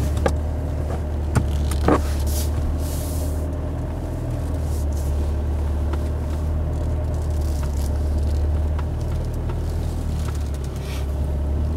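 Fiat Fullback pickup crawling off-road in first gear with low range engaged at about 1000 rpm, a steady low engine drone throughout with occasional knocks and rattles, close and loud.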